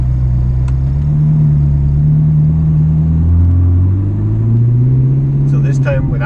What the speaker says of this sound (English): So start, put in first gear and roll on out.